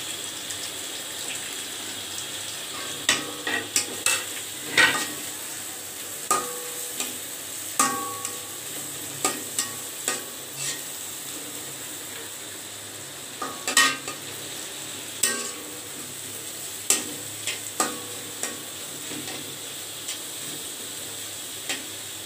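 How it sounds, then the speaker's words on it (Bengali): Onions frying in oil in a wok, a steady soft sizzle with repeated clicks and scrapes of a spatula stirring throughout, close and moderately loud with no voices. "কড়াইতে তেল দিয়ে দিলাম, আর সেই 1 কাপ পেঁয়াজ হালকা করে ভেজে নেব।"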